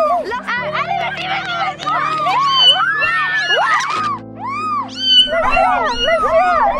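Several cats meowing and yowling in loud, overlapping distressed cries, set against a steady background tone and a faint murmur of crowd chatter.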